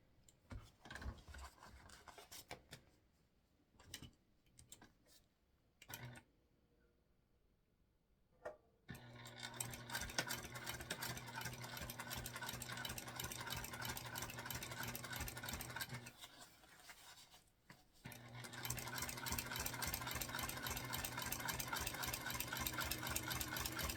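Domestic sewing machine top stitching a structured bag, first in short stop-start bursts, then running in long steady rapid rhythmic stretches, close, with brief pauses between runs.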